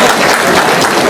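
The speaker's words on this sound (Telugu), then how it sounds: "సార్ చప్పట్లతో అభినందనలు తెలపండి సార్" A school gathering honouring teachers breaks into applause: a brief, dense burst of many hands clapping at once, loud and close, with no talk over it.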